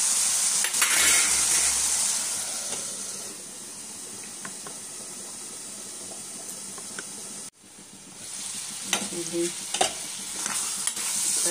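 Broiler chicken frying in a pan crackles and hisses loudly at first, settles into a softer steady sizzle, then after a brief break returns with stirring scrapes and louder spattering.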